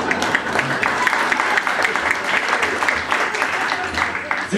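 Audience applause at a comedy club in Berlin, a full crowd clapping steadily and fairly close, with scattered cheers and a voice briefly over it.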